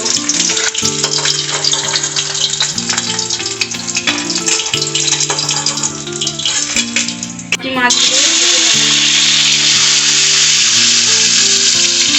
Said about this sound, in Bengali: আর এক পিঠ উল্টে দেব এই পিঠটাও আর একটু ভাজা হতে দেব